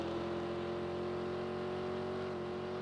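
A vehicle engine's exhaust gives a steady, even drone with a firm low tone, holding at one pitch throughout at moderate distance. No one speaks.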